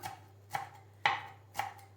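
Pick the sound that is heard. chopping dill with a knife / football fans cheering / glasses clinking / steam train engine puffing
chopping dill with a knife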